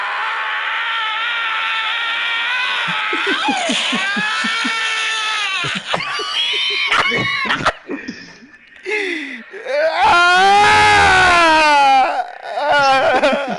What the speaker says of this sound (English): That scream he let out when he got kicked in his mouth